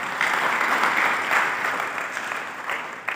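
A church congregation claps together in steady, sustained applause that fills the room at an even volume for a few seconds.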